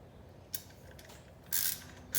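Vice grips tighten down a part on a Yamaha Raptor 700 quad during a case saver and parking brake delete job, giving a short metallic click, then a louder ratcheting creak and a final snap, close up with no talk.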